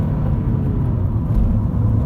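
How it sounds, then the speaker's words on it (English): A Honda Civic SE-S 1800cc i-VTEC engine rumbles steadily at low pitch under full throttle, a continuous close-up drone from inside the car with no speech. "So just if I floor the car up along here,"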